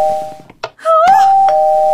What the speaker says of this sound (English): It keeps ringing the doorbell!